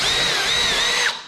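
A power drill with a 1/4 inch bit bores through a bow motor mount plate on a canoe, a loud steady high whine for about a second before spinning down abruptly, with no talking.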